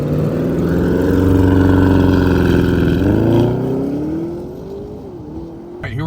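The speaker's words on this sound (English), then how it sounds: "Launch control, revving up." A powerful Lamborghini sports SUV engine idles, then revs up with a rising roar in Sport Plus mode with launch control before settling back down, loud and close, with no talking.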